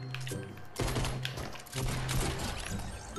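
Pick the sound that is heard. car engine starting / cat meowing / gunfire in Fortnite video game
gunfire in Fortnite video game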